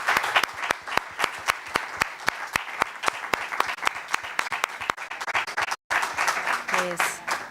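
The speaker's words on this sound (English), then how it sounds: "And a round of applause," A conference audience applauds at the close of a session, with steady, dense clapping throughout and a very brief break near the end before it resumes alongside faint voices.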